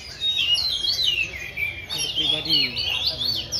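Many songbirds chirp and trill busily at Pasty bird market in Jogja, a dense, continuous chorus of tweets close by, with a voice speaking briefly under it.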